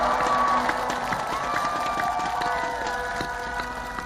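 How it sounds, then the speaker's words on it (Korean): A campaign rally crowd at a women-focused presidential election event cheers and applauds for an activist, a broad wash of shouting and clapping with tonal whistles and calls, fairly distant and steady, tapering slightly toward the end. "우리 박지원 활동가에게 큰 격려의 함성과 박수 부탁드립니다."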